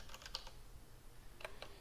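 Quick bursts of keystrokes on a Mac computer keyboard, a few clustered taps early and another short run near the end, close and fairly quiet against a low background hum.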